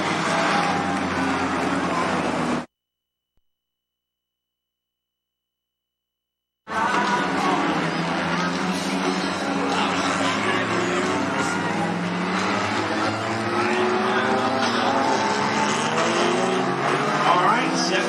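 Race cars at Cottage Grove Speedway roaring steadily around the track, a continuous loud engine drone that cuts out for a few seconds and then returns, with a commentator talking over it.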